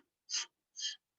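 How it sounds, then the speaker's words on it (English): Two short, quiet inhales, each a soft airy sniff through the nose, evenly spaced about half a second apart. "You're going to use a breath in through our nose. It sounds like this."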